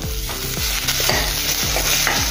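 Coarsely crushed garlic and cumin sizzle and crackle in a hot pan while stirred in regular strokes, steady and close.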